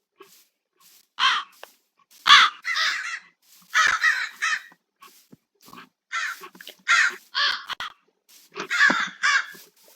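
A crow in Minecraft caws in a series of harsh, repeated calls, roughly a dozen spaced bursts, loud and close, with no speech over them.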